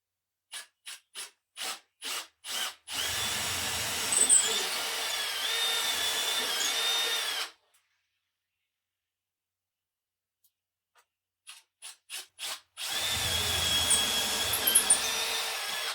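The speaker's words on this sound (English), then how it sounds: "Trev just went old school and drilled a couple of holes to double check where the stud" A power drill bores test holes into a wall to locate a stud, with short trigger blips followed by a sustained whining run of a few seconds, then silence and a second burst, close and loud.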